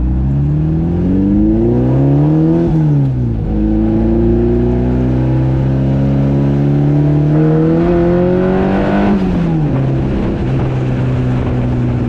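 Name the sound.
sports car engine revving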